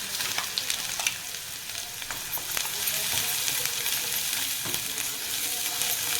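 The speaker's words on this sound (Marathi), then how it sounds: "आता हे वाटून याच्यामध्ये घालून चांगलं परतून घ्यायचं" Ground salted fish chutney paste of mori fish with chilli powder and coriander powder frying in oil in a pan, a steady close sizzle with occasional spatula scrapes and taps, no talking.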